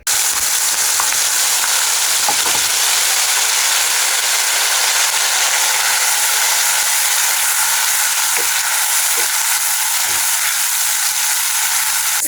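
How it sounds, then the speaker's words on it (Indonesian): Steady frying sizzle of chopped spice paste sautéing in hot oil, continuous and close, with occasional faint clicks and scrapes of stirring. "langsung saja aku tumis bumbu yang udah aku chopper tadi"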